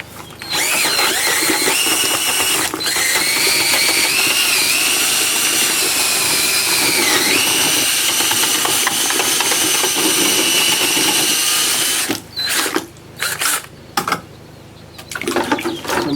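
A power drill churns stone veneer mortar in a bucket, a loud, steady whirring drone with shifting pitch for about twelve seconds, then several short stop-and-start bursts.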